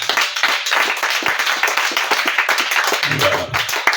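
A church congregation at a praise and thanksgiving worship service clapping to acclaim the Lord, loud, dense, continuous applause with some voices underneath.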